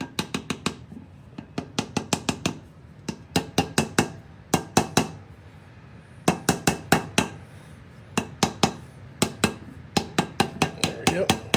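A brass hammer taps a seal into place on a racecar's rear clip, giving quick bursts of sharp metallic knocks in rapid clusters with short pauses between, loud and near.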